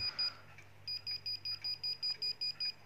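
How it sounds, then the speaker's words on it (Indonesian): A Nokia 5110 mobile phone alarm sounds as a string of quick, evenly spaced electronic beeps, about ten short bursts in steady rhythm, clear and fairly faint against a quiet room hum. "jadi kalau misalnya ada alarm tuh kayak gini guys ya tampilannya"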